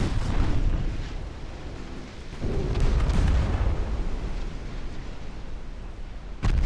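A torpedo striking a ship in the naval game Ultimate Admiral Dreadnoughts, a heavy rumbling blast that swells, settles into a long roar of rolling booms, then a sharp burst near the end.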